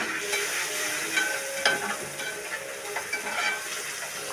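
Onion and spices, black pepper and coriander, sizzle steadily in a pan with soft stirring scrapes and a few sharper clicks, fairly quiet, no talking.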